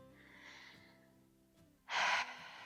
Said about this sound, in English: we'll take a few breaths here